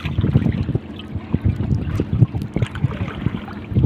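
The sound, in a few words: strong wind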